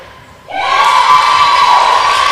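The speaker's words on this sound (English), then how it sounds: "big cheer from the Malta bench" A netball team's bench and supporters at a Malta match in a Europe Netball Open Challenge game burst into a loud, sustained cheer with whoops, rising suddenly and holding steady for about two seconds.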